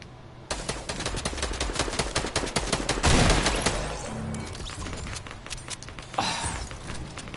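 Gunfire in Fortnite comes as a rapid close volley of shots that rises to a dense loud burst, then thins, with one more shot near the end.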